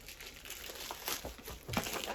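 Plastic package bag crinkling while a parcel is unboxed, a rustling, papery crackle with louder crumples near the middle and end, close by and without talk.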